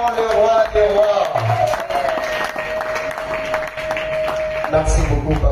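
A church congregation cheers and claps to acclaim the Lord, crowd applause and shouts mixed with a sustained singing voice and loud amplified sound in a lively hall.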